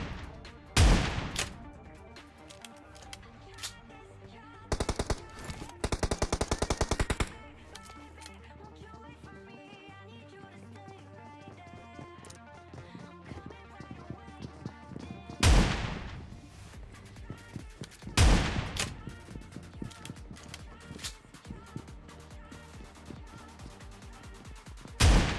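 S686 shotgun blasts in a battle royale video game come as a handful of loud, sharp booms, some in quick pairs, spread across a stretch of quieter game ambience and distant clatter.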